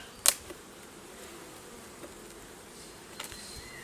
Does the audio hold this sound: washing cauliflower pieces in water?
no